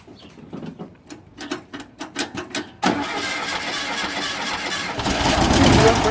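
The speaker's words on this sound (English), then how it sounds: "We're going to get ready to fire this baby up for the first time since, of course, everything's been resealed." A rebuilt, resealed VW 40hp engine rescued from a barn cranks with a rapid series of starter pulses, catches with a sudden roar, then settles into a loud, steady idle that rises slightly near the end.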